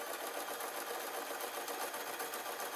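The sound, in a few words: sewing machine sewing a knitting bag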